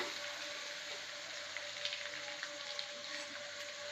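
Masala for a Guntur-style prawn pickle frying in a pan, giving a quiet, continuous sizzle with a few faint crackles and no voices.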